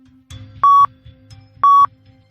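A dive app's electronic beeper gives two loud, steady tones about a second apart over a low background hum, with no voices.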